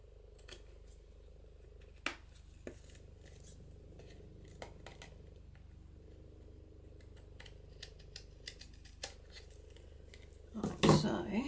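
Scissors trim excess paper from a Polaroid frame embellishment, with several quiet, sharp snips spread through the clip and a louder burst of cutting and handling near the end, all close by.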